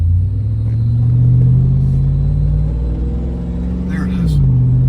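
2006 Chevrolet Silverado driving with an engine rattle: a loud, steady low engine rumble rises and falls slightly in pitch as the truck moves, with faint metallic clatter above it.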